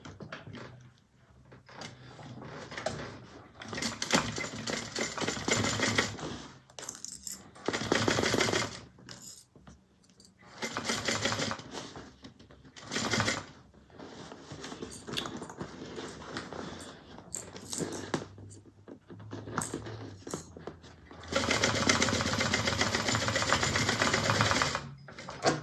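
A sewing machine stitches a bag seam in repeated bursts, running steadily for a few seconds at a time with short pauses between runs, close and fairly loud with no talking.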